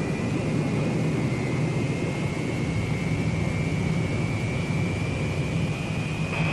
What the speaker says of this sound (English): all you need is a final check and power for the takeoff roll.